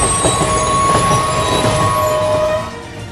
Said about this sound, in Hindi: बुल्ली चेन खींच देता है और थोड़ी देर में ही ट्रेन रुक